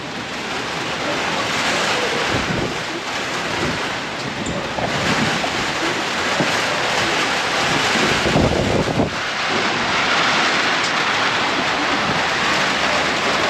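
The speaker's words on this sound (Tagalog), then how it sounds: "Ito na par. Umuulan na par." Heavy rain pours steadily as a broad, roaring hiss with gusty wind noise buffeting the microphone, continuous and loud throughout with no talking.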